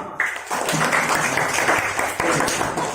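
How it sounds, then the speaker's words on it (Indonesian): A crowd applauding, dense and continuous clapping filling the whole stretch, fairly close. "tepuk tangan buat anak-anak semua"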